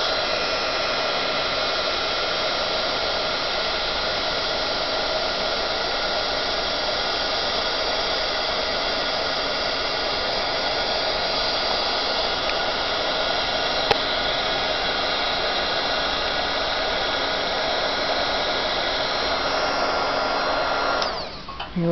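A heat embossing tool blows hot air over an acetate card for a crafting project, a steady loud hissing whoosh held close and constant for about twenty seconds before cutting off at the end, with no voices.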